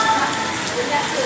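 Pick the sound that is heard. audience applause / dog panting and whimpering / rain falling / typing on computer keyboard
rain falling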